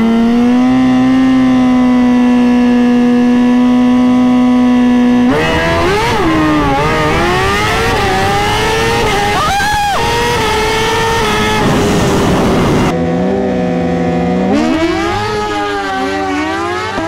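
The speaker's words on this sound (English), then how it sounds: "She spun the tire." A Suzuki GSX-R 1000 drag motorcycle with an air shifter launches at a drag strip, its engine holding a loud steady drone and then revving and wavering hard as the rear tire spins, loud and close throughout with no talk.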